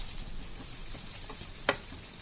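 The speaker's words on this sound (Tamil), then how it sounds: "இது கொஞ்சம் மீடியம் ஃப்ளேம்லேயே வச்சு நல்லா வதக்கி விட்டுக்கோங்க" Okra with onion, ground coconut and masala sautés in a pan over a medium flame, a soft continuous sizzle with a few light stirring scrapes and one sharp clink near the end.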